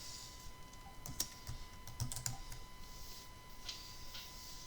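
Keys clatter in scattered bursts on a computer keyboard as a value is typed into an Excel spreadsheet cell, quiet and close with a steady hum beneath.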